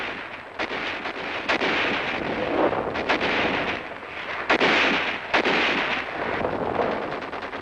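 World War Two machine gun fire crackles in a newsreel scene of troops advancing on a town, repeated sharp bursts and reports over a continuous noisy, rumbling battlefield background.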